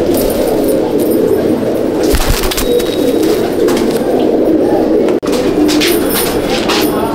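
Madraasi pigeons coo steadily and close by, their soft overlapping calls forming a continuous layer over a constant background hum.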